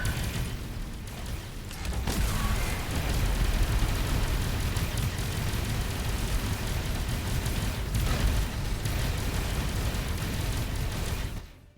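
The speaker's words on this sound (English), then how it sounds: "Why am I hearing explosions?" Explosions from pirate attacks in the space game Avorion, a dense, continuous roar of booms and bursts that rumbles steadily for most of the stretch, loud and with no talking over it.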